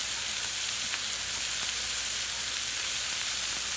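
Shrimp sizzle on a very hot hibachi pan with a steady, dense frying hiss, close and continuous, with faint clicks of the food shifting throughout.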